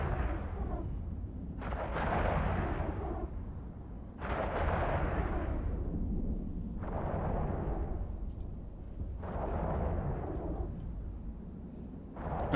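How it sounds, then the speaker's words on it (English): Weapons fire in the EVE Online space game, heavy booming artillery-like blasts in repeated bursts every couple of seconds over a deep continuous rumble, no talking. "I don't even know what my guys are shooting at, but they're shooting at something."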